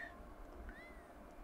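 A cat in The Sims 4 gives a faint, short meow and a second rising meow, heard quietly against low background sound.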